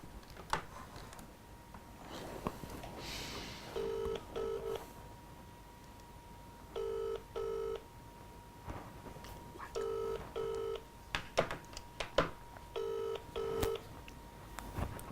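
A telephone call rings through to a voicemail service: dial-tone pairs of ringback bursts repeat in steady twos at regular intervals over a faint background hum, with scattered clicks and light noise between rings.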